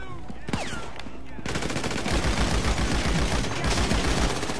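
Rapid gunfire in GTA V Online: a couple of isolated shots, then a dense run of automatic bursts that keeps hammering loudly to the end.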